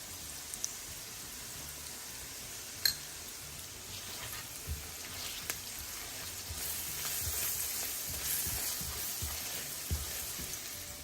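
Onion and green chili fry in a pan with turmeric and salt added for a Bangladeshi egg and cabbage dish, giving a soft, steady sizzle with a few sharp clicks and taps from utensils.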